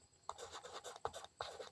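A pen or marker writes during a math lesson in a few short, quiet scratching strokes, separated by brief pauses.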